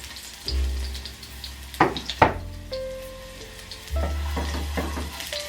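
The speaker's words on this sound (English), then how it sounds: "I'm gonna take some of that minced garlic and start heating that up too on a medium heat." Minced garlic sizzles in olive oil in a pan over medium heat, a steady close frying hiss with a couple of sharp clatters of utensil against the pan, no talking.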